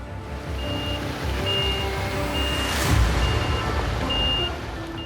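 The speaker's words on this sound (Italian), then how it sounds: "Retro, manualone e facciamo una manovra" A heavy truck reverses during a manoeuvre, with evenly spaced electronic reversing beeps repeating over a loud, steady diesel engine rumble and a brief hiss of air brakes partway through.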